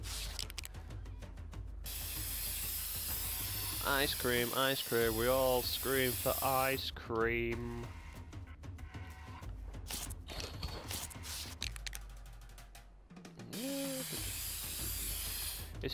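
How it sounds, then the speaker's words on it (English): Spray paint hisses loudly in the video game InFAMOUS: Second Son, a long broadband spray that runs through most of the stretch, broken by a short sung line and brief talking. "It's a shame you can't get to pick the colours of the spray paint to use."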